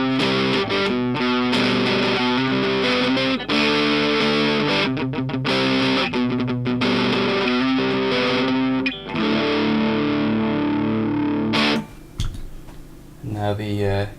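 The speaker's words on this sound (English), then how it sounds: "here is the stock Boss DS-1 with the distortion and the tone" Electric guitar through a stock Boss DS-1 distortion pedal with distortion and tone at midpoint, loud, buzzy chords and riffs played continuously, ending with a brief muted scrape.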